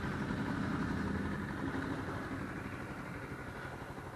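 A Lifan KP Mini 150 motorcycle idles while warming up, a steady low mechanical drone with an even throbbing pulse, moderately close and fairly quiet, with no talk over it.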